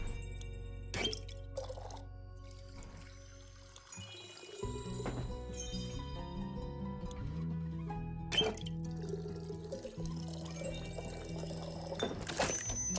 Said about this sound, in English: What happens if I pour a little more of this in?